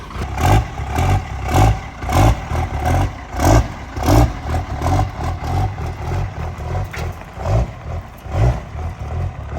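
A drag truck engine revs in repeated rhythmic surges while the truck drives, with a loud, rumbling low-end pulse and some mechanical clatter, close and steady throughout.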